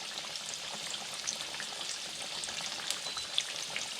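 A breaded pork chop fries in a pan over medium heat, giving a soft, even crackling hiss with scattered small pops throughout and no voices.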